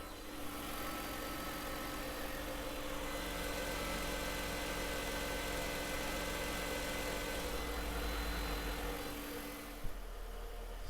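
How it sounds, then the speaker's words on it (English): A 1994 Mercedes C280 idles quietly at a smooth, steady hum with a faint even vibration, heard alone and fairly close, before a brief click near the end. "So now I'm just going to listen to the engine and see how it's running"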